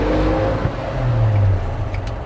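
A 1957 Chevrolet 3100 pickup with a three-on-the-tree manual and single exhaust, its engine running with a steady, loud, low rumble close by.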